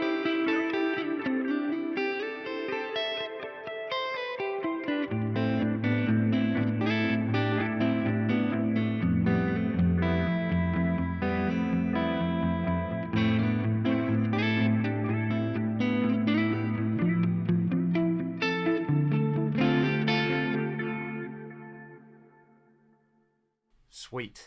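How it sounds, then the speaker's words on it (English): Guitar run through a GFI Specular Tempus pedal set to a reverb with analog delay, sustained chords and notes blooming into long echoing tails, loud and steady before fading out near the end. "I really like this one, which is a reverb and an analog delay."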